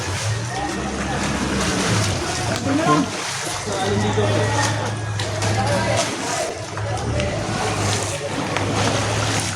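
A strong river current rushes, churning and splashing with a steady low roar near a bridge, while people talk over it nearby.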